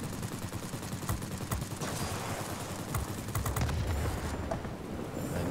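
Dense, continuous machine gun fire from a Ki-27 fighter in a World of Warplanes dogfight, a loud, unbroken rattle with sharp bursts and crackles layered over a steady roar.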